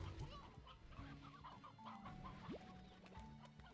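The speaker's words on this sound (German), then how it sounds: "das sind normale Hühner" Chickens clucking in the video game Slime Rancher, a steady stream of soft clucks and chirps from several birds over a continuous game soundscape, with no speech.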